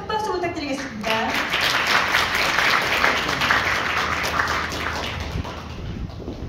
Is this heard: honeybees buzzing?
no